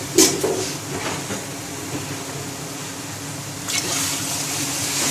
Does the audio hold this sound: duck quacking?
no